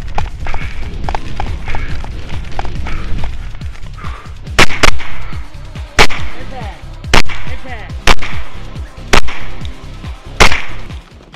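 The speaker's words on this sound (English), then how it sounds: "Most of the stages incorporated both pistol and carbine targets." Gunfire at a night pistol and carbine shooting match, loud sharp reports spaced about a second apart after a busier stretch of mixed noise, each shot ringing briefly.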